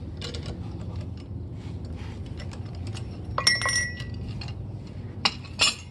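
Work on loosening a small bushing on a fairly new tractor PTO shaft gives close, sparse metallic clinks and taps, with a few sharper ringing knocks over a quiet background.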